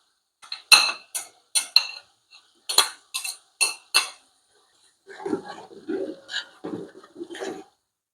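Ginger paste added to a pot and stirred for Thoothukudi-style chicken biryani, with sharp metallic spoon clinks against the pot in a quick burst, then softer scraping, mixing sounds, close and clear.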